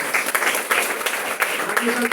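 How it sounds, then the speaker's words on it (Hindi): A crowd answers a call for loud applause at a speech, with a brief, dense burst of clapping that stays steady and close for about two seconds. "एक बार जोरदार तालियां हो।"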